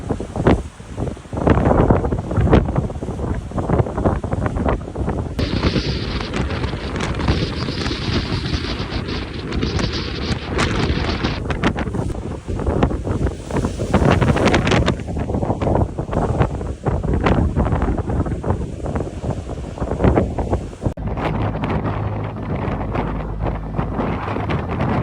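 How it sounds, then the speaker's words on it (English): A ship is caught in a raging storm in northern China, with roaring wind buffeting the microphone and heavy waves crashing against the hull in a loud, unbroken rush of noise that swells and eases. "Amid a raging storm in northern China, furious waves crashed in, threatening to engulf the ship."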